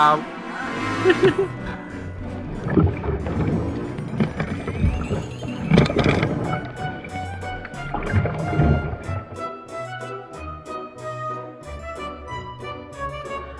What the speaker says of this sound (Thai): กำลังจะพายเรือเล่นนะฮะ